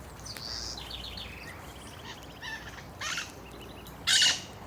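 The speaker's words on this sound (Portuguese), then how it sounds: "as aves tudo se alimentando." Birds feeding in a thorny backyard tree give scattered chirps and squawks, a few louder calls standing out over a soft, steady outdoor background.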